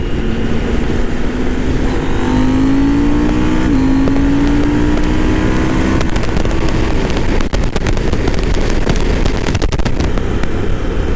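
A 2023 KTM 890 Adventure motorcycle engine revs loudly and continuously up close, its pitch climbing with acceleration and then giving way to sharp crackling pops and bursts from the exhaust amid strong wind rush.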